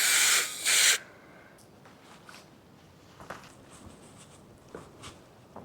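Two short hissing bursts from a spray can up close inside a van being converted, followed by quiet rustling and faint handling sounds.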